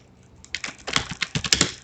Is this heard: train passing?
no